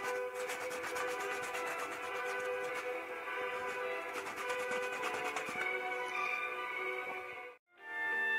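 Sandpaper rubs steadily over a handmade paper Iron Man MK7 helmet, a close, continuous scratchy rasp of even strokes that cuts out briefly near the end.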